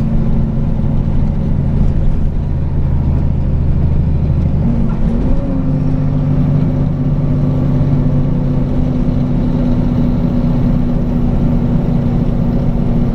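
A heavy truck engine labours up a steep hill, a loud, steady low drone that breaks midway as the driver shifts down from sixth to fifth gear, then settles into a new, firmer hum.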